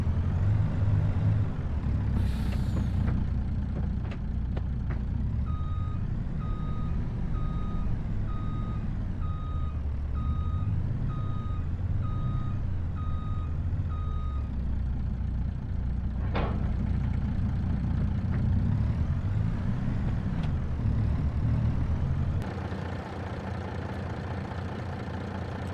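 In the Farming Simulator 25 video game, a Mack truck backs up to hitch a trailer. A steady reversing alarm beeps over a constant idling diesel engine, then a short burst of air-brake hiss follows before the engine settles.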